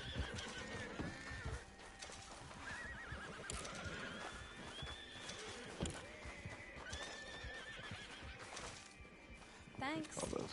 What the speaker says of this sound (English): What's that horse coming at me all crazy?